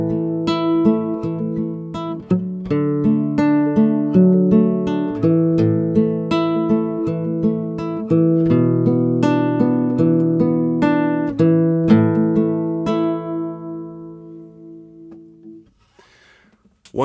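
Fingerpicked acoustic guitar works slowly through the chord progression of a song, Zimbabwean style, with a steady plucked bass and treble pattern ringing close and clear before fading out near the end.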